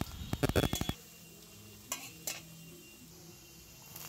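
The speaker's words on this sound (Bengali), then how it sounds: "আলুগুলো হালকা একটু নাড়াচাড়া করে নিয়ে" Small potato pieces frying in oil with whole cumin, whole garam masala and a bay leaf get stirred: a quick burst of rattling spoon-on-pan clatter, then a few lone taps over a quiet, steady sizzle.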